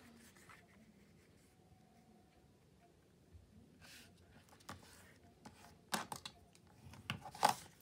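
Paper tags being cut with scissors, quiet rustling at first, then a few crisp snips and paper handling sounds grow louder toward the end, close by with no talking.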